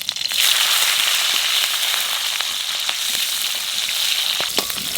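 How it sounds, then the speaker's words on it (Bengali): Nigella seeds and chillies dropped into hot oil in a home kitchen, giving a loud, steady hiss of frying with scattered pops and crackles throughout, close up and with no voices. "তেলের মধ্যে দিয়ে দেবো কালো জিরে লঙ্কা"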